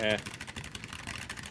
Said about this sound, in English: they are loud. They click like crazy. It's like you're slamming on a typewriter.